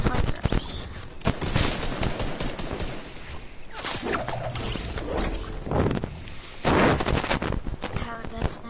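Sniper and rapid gunfire in a PS4 video game, with repeated loud shot bursts and mechanical clatter throughout, mixed with game sounds and occasional talk.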